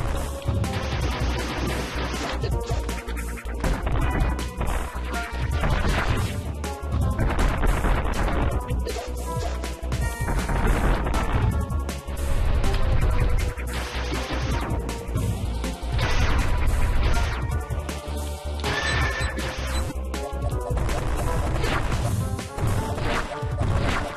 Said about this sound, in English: More bombs! More bombs!